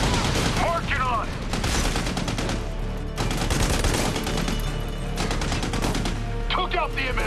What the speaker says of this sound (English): That machine gun's pinning us down out here!